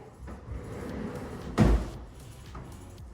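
A water closet privacy door in a downtown Fort Lauderdale townhome opens with one short, solid thud midway through, standing out over a low steady room hum.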